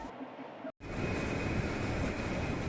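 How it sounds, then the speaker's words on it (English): A local Bernina line train rolls through narrow streets with a steady, close, broadband rumble and roar, following a brief cutout at the start. "This huge train rolls right through the narrow streets just like a tram."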